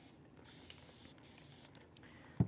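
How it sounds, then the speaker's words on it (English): One short, sharp spritz of alcohol from a spray bottle lands at the very end, after a stretch of quiet room noise and faint handling. "so then I just spray it"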